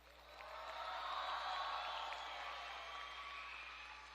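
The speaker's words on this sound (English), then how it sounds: "Can we get a huge round of applause?" A live audience at a Gita talent game show applauds and cheers, a soft, steady wash of clapping and crowd noise that swells and holds for several seconds, heard from a distance.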